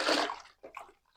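Phenyl is stirred into water in a bucket with a cup, making a burst of sloshing splash followed by softer swirling and dribbling sounds. The sound is close and quick, with no talk.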